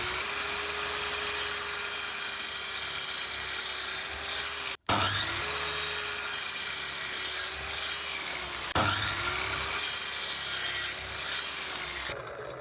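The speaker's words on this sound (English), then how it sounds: "I'm going to be cutting 2 pieces off at 3 centimeters each" A hand saw cuts short pieces off a small wooden stick, giving a steady rasping grind in long continuous passes, briefly interrupted twice, close up with no talking.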